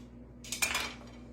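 A short scraping creak of a lid being twisted off a full mayonnaise jar in a home kitchen, a brief close rasp with a faint clink, no talking.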